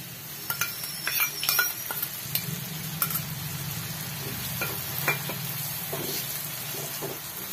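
Mixed spice masala sizzling and frying in a pan, with steady crackle and occasional stirring clinks of a utensil against the metal, close and continuous without any talk.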